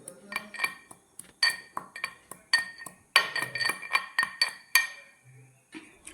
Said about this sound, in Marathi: आलं घेतलेलं आहे तर हे आपण खलबत्त्यात बारीक करून त्या ताकामध्ये मिक्स करायचं